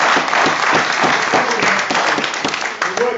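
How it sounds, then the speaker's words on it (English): An audience applauds at a black fathers support group event, loud, close, thick clapping with a slightly uneven pulse, sustained throughout. "Give black men a round of applause for that."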